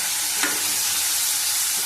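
Prawns fry in a pan with turmeric and a whole tomato, a steady, loud sizzle with a brief stirring scrape near the start and no voices.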